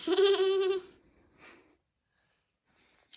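A child imitates a goat's wavering bleat, loud and close, while a loose tooth is pulled with string, followed by a softer breathy trailing sound and near silence.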